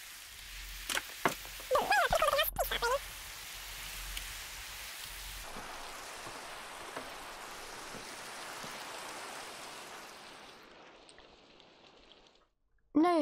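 Steady rain falls in Minecraft, a broad hiss that runs under a few short game sounds early on and fades away near the end, when a louder sound cuts in.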